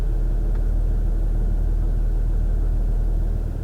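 A 2005 Audi A6 estate with a 3-litre diesel engine, running steadily with a low, even rumble close by, continuous and without talk.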